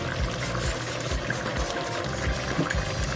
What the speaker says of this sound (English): now I'm just going to continue putting some oil on this